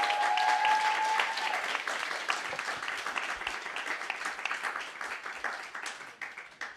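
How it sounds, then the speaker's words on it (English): Audience applause at a Global Art Forum talk, a dense, sustained wash of clapping from many hands that fades gradually over several seconds. "Can we have a round of applause for Shumon Basar,"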